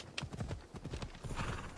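A horse in the video game Assassin's Creed Odyssey trots along a rough path, its hooves clip-clopping in a quick, uneven rhythm with a brief whinny, heard faintly and alone.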